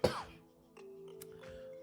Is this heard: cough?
yes